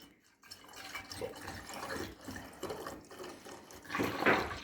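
Red pomegranate juice kefir drink flows and trickles downward, a soft continuous pouring and gurgling of liquid that swells toward the end, heard close with no talking.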